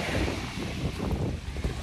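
Steady wind rushing across the microphone by the sea in Sweden, a broad continuous roar with gusty swells and no voices.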